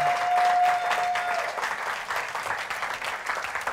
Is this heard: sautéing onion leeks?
no